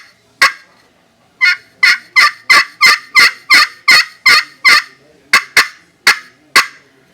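A turkey pot call, its striker peg popped at one spot, clucks in a steady series of about fourteen sharp, close yelps, with a brief pause early and another near the end, and no other sound.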